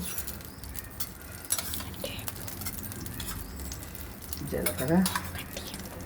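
Mustard seeds, urad dal and cumin crackle and pop in hot oil for tempering an ivy gourd chutney, with scattered light sizzling and a voice briefly heard near the end.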